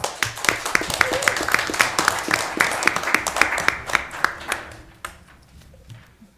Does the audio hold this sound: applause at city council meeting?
yes